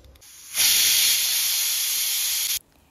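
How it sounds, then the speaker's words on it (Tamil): A pressure cooker of rice and dal vents steam through its whistle in a loud, steady, close hiss lasting about two seconds before stopping abruptly. "ஓகே, ஒரு ரெண்டு விசில் வந்துச்சுனாக்கா சாப்பாடு சூப்பராக ரெடி ஆயிடும்."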